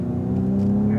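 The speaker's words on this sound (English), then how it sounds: "roll into the throttle very gently" Cadillac ATS-V engine on a race track, a steady close drone with the throttle rolling on gently and building slightly, no talk over it.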